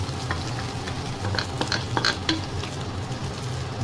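Fried rice being stirred and tossed in a hot pan, a steady sizzle with scraping spatula strokes and scattered clinks, close and continuous with no talking.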